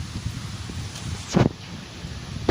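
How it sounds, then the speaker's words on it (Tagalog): Gusty wind buffets and rustles steadily, with a couple of sharper blasts hitting the microphone along the way. "mahangin nga"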